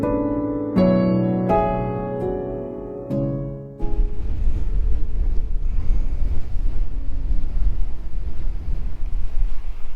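Strong wind on a hiking trail, the GR120, buffets the microphone in a loud, continuous roar, following a few seconds of ringing, bell-like tones at the start.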